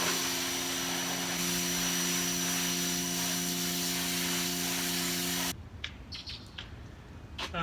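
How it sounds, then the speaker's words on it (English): Loud, steady hissing roar of a sandblaster blasting a truck bed, with a tonal hum underneath, cutting off abruptly and leaving quieter clatter and knocks. "It's so nice to have a sandblaster and a unit to sandblast in."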